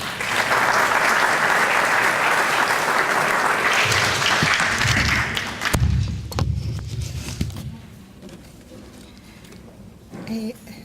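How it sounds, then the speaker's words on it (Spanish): Ceremony audience applause at an engineers' association anniversary session, with loud sustained clapping that thins after about six seconds, punctuated by a few thumps, then trails off as scattered claps under low background noise. "Un fuerte aplauso para ella."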